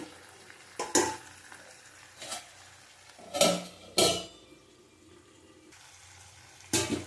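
Chicken for a coconut-milk malai curry being stirred and sautéed in a pan, with quiet low sizzling broken by several sharp spoon-and-pan scrapes and clanks, close by and without talk.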